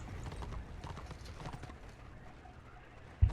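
A ridden white lion mount plods along in the Return of Reckoning video game, soft rhythmic padded footfalls at moderate distance, ending in a sharp low thump.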